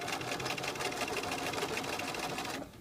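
A sewing machine stitches a centered zipper near the presser foot, running as a fast, steady mechanical whir up close that stops abruptly just before the end.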